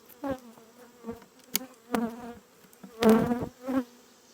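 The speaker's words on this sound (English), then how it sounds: "you just want to shake all these bees off" Honey bees being shaken off hive frames during brood box management buzz close by in short, irregular bursts, with louder swells as individual bees fly past.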